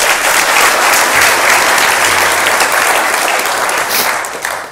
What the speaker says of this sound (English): So, a round of applause to all the Lightning Talk speakers.